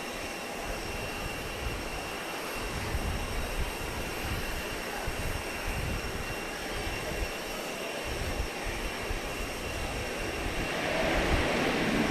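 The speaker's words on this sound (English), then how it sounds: "see the United plane coming in" A United airliner comes in to land at Grand Cayman, its engine roar steady and moderately loud from start to finish, swelling slightly near the end over broadband outdoor rumble, with no voices.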